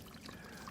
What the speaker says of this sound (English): waterfall there, which is just trickling